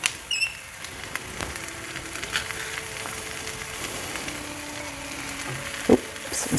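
Onions and two cloves of minced garlic frying in a pan, a soft steady sizzle with occasional light clicks and stirring sounds, close by and without talk.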